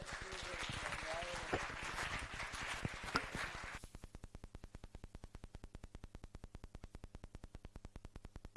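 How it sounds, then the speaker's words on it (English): Audience applause at a tech conference, clapping under loud amplified speech, then a faint steady rhythmic patter of claps continuing alone for several seconds. "Everybody, please give a round of applause to sir."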